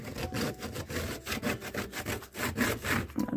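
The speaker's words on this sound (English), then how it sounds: "I'm going to try and just rub it a bit and see if I can bring some of that back." A decoupaged junk journal cover is rubbed by hand to bring back its texture, giving soft, rhythmic scraping strokes that repeat steadily, close and fairly quiet.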